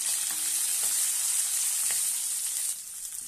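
Half a small spoon of cumin seeds frying in hot oil in a pan, giving a steady close hiss and sizzle throughout with a few faint stirring clicks and no voices.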